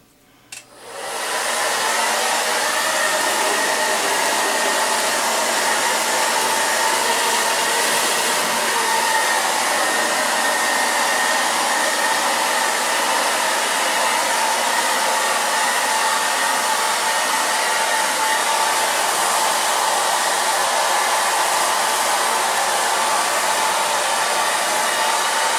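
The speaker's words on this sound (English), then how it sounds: "take a hair dryer, set it on the highest heat setting" A hair dryer on its highest heat setting switches on and blows loudly and steadily at full power, a constant whooshing roar with no voices.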